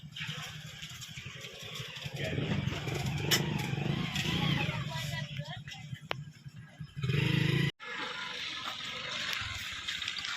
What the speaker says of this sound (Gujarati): ત્યાં એક્ટિવા બંધ કરો પછી તમને વાત કરું